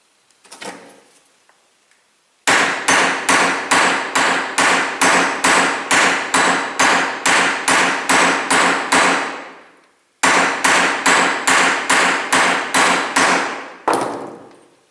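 Loud, sharp metallic hammer blows drive a quarter-inch annealed nut onto a cable end for a snare swivel. The strikes come in two quick, evenly spaced runs of about fifteen and six, with a short pause between them and no talk.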